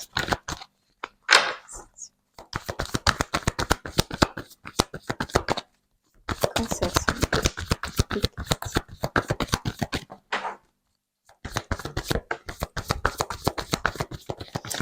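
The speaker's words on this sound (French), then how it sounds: "on va prendre une autre petite carte pour vous avec le voyageur sacré" Oracle cards being shuffled in rapid, crisp riffling bursts, close and loud, in three long runs separated by brief pauses.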